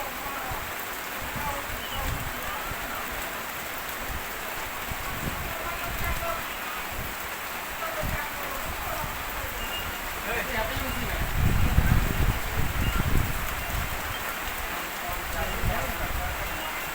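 Heavy rain falls in a dense, steady hiss that swells slightly toward the middle, with low rumbling underneath and a faint voice in the background.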